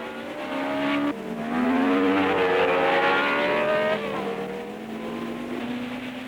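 Several 1962 Formula 1 race cars, BRM and Porsche among them, roar past at close range during the French Grand Prix, their engine notes loud, sustained and rising and falling in pitch as they accelerate through the circuit.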